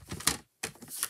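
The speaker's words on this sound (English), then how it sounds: "Now what I'm going to do is I'm going to bring in my paper trimmer again." A paper trimmer slicing through paper in a paper pumpkin craft, two short close scraping strokes separated by a brief pause, alone without talk.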